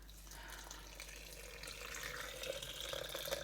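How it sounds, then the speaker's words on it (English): Water runs steadily from a kitchen tap into a container while a plant-based breakfast is being made, a continuous close splashing rush that grows slightly fuller as it fills. "now you're just going to add in some water"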